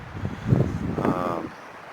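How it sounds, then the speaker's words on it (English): Gusty wind buffets the microphone in low rumbling bursts during severe weather in Oklahoma, with muffled, indistinct voice sounds mixed in. "Sorry, it's really windy here."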